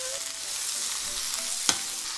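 Thinly sliced vegetables stir-fry in olive oil in a wok over high heat, giving a continuous close sizzle broken by a couple of sharp scraping clicks from stirring.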